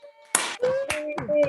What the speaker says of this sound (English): We all unmute and give him applause.